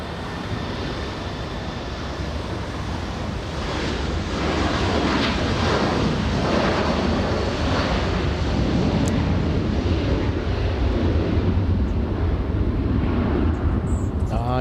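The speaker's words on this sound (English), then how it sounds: "you're about to see a big Dreamliner fly to Seoul" A Boeing Dreamliner jet taking off at LAX bound for Seoul, a broad engine roar building and holding loud and close, mixed with wind buffeting on the microphone.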